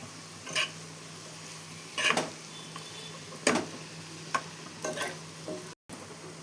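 Tomato goes into a paneer masala curry in a pan, with a constant low sizzle of frying under several separate scraping strokes of a stirring spoon.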